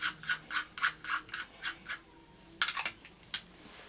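Threaded parts of a snuff holder being screwed together, giving a series of rhythmic scraping, grinding clicks close up, followed by a few sharper rasps, with no talking.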